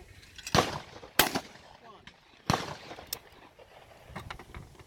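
Shotgun blasts ring out at a clay target shoot, three or four sharp, loud reports spaced irregularly with short echoing tails, while people talk quietly between shots.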